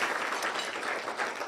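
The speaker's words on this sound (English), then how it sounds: "Let's give her a round of applause for the Army." Audience applause at a cybersecurity event in Seattle, Washington: steady, dense clapping that fills the whole short moment at moderate volume, with no voices over it.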